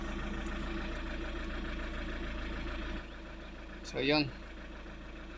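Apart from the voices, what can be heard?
Chevrolet Captiva engine idling after starting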